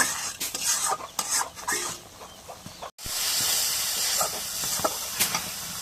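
Ground spice powder fries in a pan with salt, a loud close hissing sizzle broken by stirring scrapes and clanks against the pan, with one brief break before the sizzle returns stronger.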